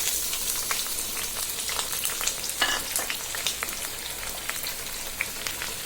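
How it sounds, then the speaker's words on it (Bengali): Chopped onion, garlic and green chili fry in hot oil in a kadai, giving a steady, close sizzle with crackling pops throughout and no talking. "এবার কেটে রাখা পেঁয়াজ, রসুন, কাঁচামরিচ দিয়ে দিচ্ছি"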